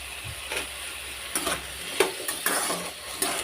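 Pieces of tomato tumble into a frying pan for a village-style cucumber tomato pachadi, answered by sharp scattered crackles and a few utensil clinks spread over a few seconds, moderately close.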